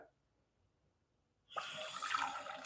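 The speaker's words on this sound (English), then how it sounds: "I'm now putting in some fresh water." Fresh water running into a pot for boiling saltfish, a near silent pause then a sudden steady gushing splash that starts halfway through and continues to the end, with no talk.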